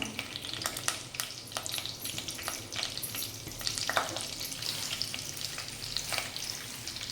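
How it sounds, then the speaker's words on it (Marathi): Cumin, mustard seeds and curry leaves hit hot oil, crackling and spitting in dense rapid pops over a continuous sizzle, close and fairly loud, with no talk. "एक चमचाभर जिरा ॲड करूया अर्धा चमचा राय ॲड करूया कढीपत्त्याची पानं"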